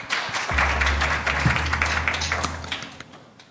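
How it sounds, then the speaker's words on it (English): Audience applause after a talk at a student symposium: a steady burst of clapping lasting about three seconds at moderate level, with a low hum underneath, fading out toward the end. "we can give a nice hand of applause."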